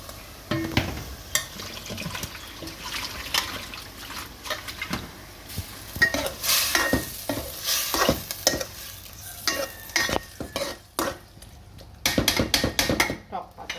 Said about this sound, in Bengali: টক পাতা দিয়ে ছোটো মাছ ট্যাংরাটা রান্না করতেছি